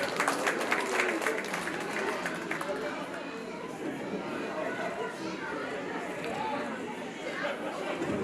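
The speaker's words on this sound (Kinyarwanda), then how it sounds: "amashyi menshi cyane" Enthusiastic applause and cheering from a crowd at a Burundian engagement and wedding celebration, dense continuous clapping mixed with lively chatter and a speaker's voice over it, strongest at the start.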